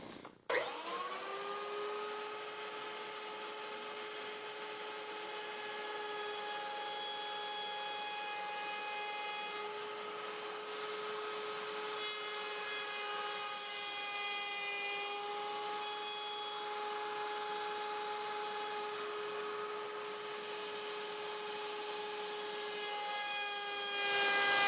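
A router fitted with a quarter-inch roundover bit shapes the edge of a stitching pony built from scraps, a constant high electric whine running close and unbroken from start to end, with no talk.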